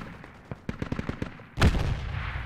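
Gunfire and grenade explosions in the Project Reality military shooter: a rapid series of sharp close shots, then a heavy blast that leaves a rumbling, noisy tail.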